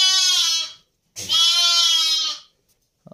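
A newborn lamb, born that day on a farm, gives two long, loud bleats close by, separated by a short pause, followed by a faint rustle.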